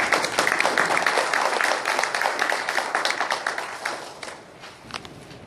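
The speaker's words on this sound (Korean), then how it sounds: "박수로 환영해 주십니다" An audience at a KAIST business school retirement ceremony for a professor claps warmly to welcome a faculty speaker, dense steady applause that holds, then thins and fades toward the end.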